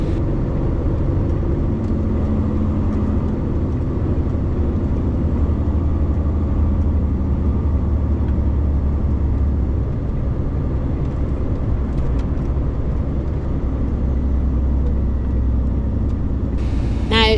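Steady, continuous rumble of a truck with a low fifth-wheel hitch towing a trailer along a countryside road, engine and road noise droning evenly throughout, heard from inside the cab.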